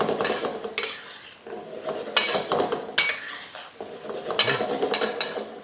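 Tofu being flipped in a simmering pan with a utensil, bursts of scraping and clinking against the metal over a low bubbling background, close and irregular, no voices.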